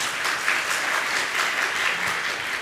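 An audience at a Jain religious gathering applauds loudly, dense continuous clapping that holds steady for several seconds.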